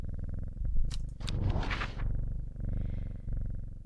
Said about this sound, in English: I like how the purr just keeps going.